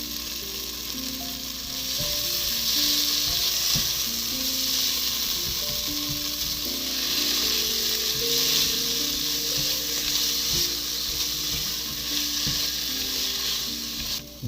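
Ginger garlic paste frying in a pan for a Telugu-style chicken dish, a steady loud sizzle with occasional stirring scrapes throughout.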